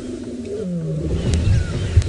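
A male lion roars on a sunset safari drive: a deep, rumbling call swells over about two seconds, carried from some distance over open bush, with no talk over it.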